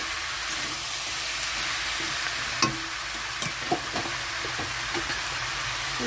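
Vegetables and fish head with spinach stems are stirred in a hot pan, a steady sizzling hiss broken by several soft scraping and clinking knocks of the spoon, close by, with no voices.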